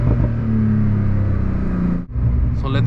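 A TECHART-tuned Porsche 992 911 Turbo S with 710 hp, heard from inside as the engine drones loudly and steadily at speed, dips briefly as if shifting, then picks up again.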